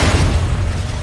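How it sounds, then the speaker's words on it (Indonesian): A helicopter crashes and explodes in a storm, a dense, loud burst of rumbling noise with heavy low boom filling the whole short moment, no voices. "helikopter itu terjatuh dan meledak"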